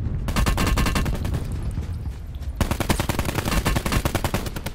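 Rapid automatic gunfire from a Call of Duty Blackout match, loud and close, with dense bursts of rattling shots and a brief gap before the firing resumes just as intensely.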